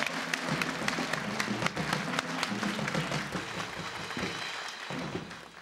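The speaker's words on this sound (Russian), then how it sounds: "я хочу услышать, как мы аплодируем нашим гостям." Studio audience at a New Year's Russian Lotto televised draw applauding the guests, a steady dense wash of clapping that holds throughout and eases slightly near the end.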